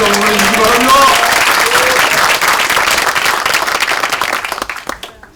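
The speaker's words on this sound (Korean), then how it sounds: "박수 한번 해주시기 바랍니다" Loud, dense applause fills the room at a joint meeting of provincial and regional party committee chairs opposing state-issued history textbooks, then gradually thins and fades out to silence.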